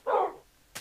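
A single short dog bark in Minecraft, close and clear, followed by a brief faint trailing sound.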